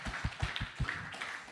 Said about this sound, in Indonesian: Tepuk tangan buat Kevin dong.